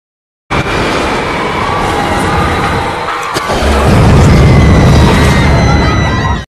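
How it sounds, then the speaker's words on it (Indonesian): A bomb detonates in an elevator in the action film Speed, a loud sustained blast with a rumbling low-end swell that builds near the end, mixed under a dense film soundtrack. "Engkong pun langsung meledakkan bomnya"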